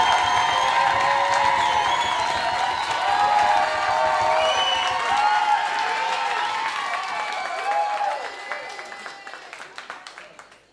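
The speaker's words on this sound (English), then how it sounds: "please clap your hands, step your feet, go crazy now" A game-show audience claps, stamps and cheers to vote for contestant Mike Driver, a dense roar of applause and whoops that gradually thins and fades toward the end, with voices shouting within it.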